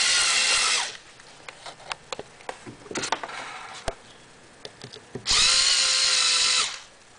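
A power drill drives stainless steel machine screws into nut bolts while mounting a speaker in a fiberglass, wood and MDF enclosure: two loud, steady whirring bursts at the start and end, with clicks and handling knocks between them.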